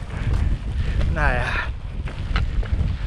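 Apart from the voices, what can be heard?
wind blowing while hiking in the Cairngorms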